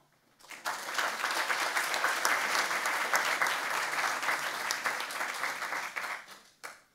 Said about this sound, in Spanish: No sé si el aplauso era para Miguel o para Elvira